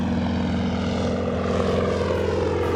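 A T-6 Texan trainer's propeller engine drones steadily on a landing approach, a loud continuous buzzing hum with slight shifts in pitch toward the end.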